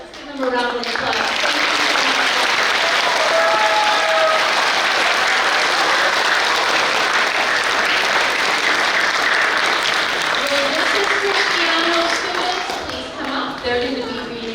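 Sustained applause from a school assembly crowd honoring veterans at a Veterans Day event, dense steady clapping that fills the room for over ten seconds, with some voices mixed in before it tapers near the end.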